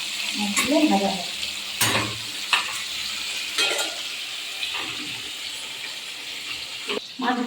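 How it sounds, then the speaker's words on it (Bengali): Pieces of hilsa fish frying in hot oil give a steady, close sizzle throughout, with several louder bursts and clatters as the fish is moved in the pan. "মাছগুলো ভাজা হবে।"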